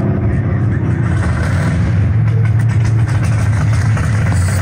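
A '67 Pontiac Firebird driving along, its engine giving a loud, steady low drone with a constant rumble heard from inside the car throughout.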